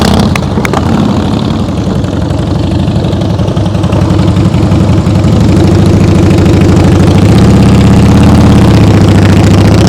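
Motorcycle engine running in first gear during slow-speed riding practice, a loud, close, steady low rumble with a rhythmic throb that rises slightly in pitch toward the end, with no talking.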